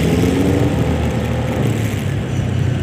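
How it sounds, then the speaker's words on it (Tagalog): Large truck on an open road, heard as a steady, fairly loud engine drone and road roar with a low mid-range hum, continuous for a few seconds with no talking. "Wow, may truck, malaki."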